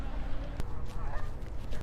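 Canada geese honking on the Boise State University campus near the Communication building, repeated loud nasal honks from a nearby flock over steady outdoor background noise.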